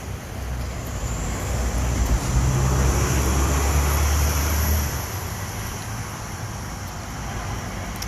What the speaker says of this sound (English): let me let this bus pass because there's a lot of noise